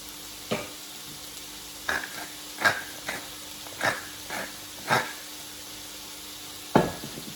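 Vegetables stir-fried in a wok for a Vietnamese salad, seasoned with salt and pepper: quiet sizzling broken by about eight sharp scraping tosses spaced unevenly, each a short crisp burst of spatula against the pan, with no talking.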